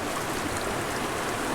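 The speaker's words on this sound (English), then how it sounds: "Awesome creek, especially for being roadside." A roadside mountain creek of very cold water rushes steadily, a dense, even wash of flowing water with no breaks and no voices.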